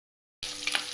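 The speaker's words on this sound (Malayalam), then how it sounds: "കടുക് പൊട്ടുമ്പോൾ ഒരേ ഒരു" Mustard seeds burst into a sudden crackling sizzle in a small amount of hot oil in a kadai, the spluttering starting abruptly after silence and continuing with sharp pops close by.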